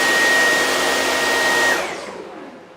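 A Dyson V11 Absolute cordless stick vacuum roars at boost power with a steady high-pitched whine, then spins down and fades over the final second.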